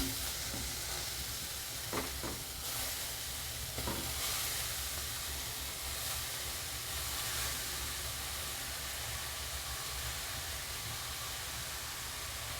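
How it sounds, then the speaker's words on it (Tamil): Carrots sauté in ghee in a pan, a dense, steady sizzle and hiss running throughout with a few faint stirring scrapes near the start. "இந்த நெய்யிலேயே அப்படியே வந்து நம்ம இந்த கேரட்டை வந்து போட்டுடலாம் இதிலே வதக்கணும்"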